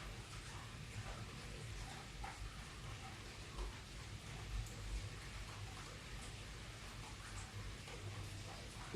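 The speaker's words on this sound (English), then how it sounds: "watching the rain fall, listening to the rain fall" Steady rain falls outside a breezeway, a soft continuous hiss with faint patters, low and even throughout, with no voices.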